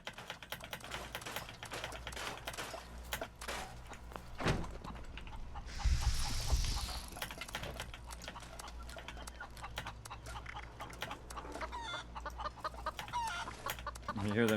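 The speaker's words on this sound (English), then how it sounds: "You hear them chickens." Chickens cluck in the Fallout 76 video game, a soft continuous backdrop mixed with fast keyboard typing, with a brief louder burst midway.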